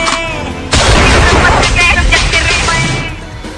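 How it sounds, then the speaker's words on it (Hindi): Shots are fired into the air beside a funeral bier procession in Madhepura, Bihar: a sudden loud burst, then a sustained crackling, roaring barrage close by that slowly eases off. "अर्थी के साथ फायरिंग का वीडियो किया पोस्ट"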